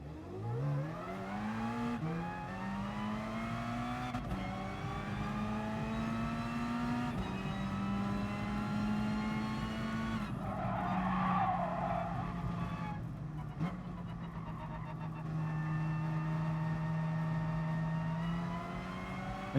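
A race car engine warming up in the GT Sport video game, droning loud and steady as its pitch climbs through several gear changes, with no one talking.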